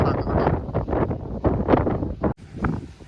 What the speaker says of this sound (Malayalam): ഇതിലേക്ക് കാറ്റ് വരുന്നുണ്ട്.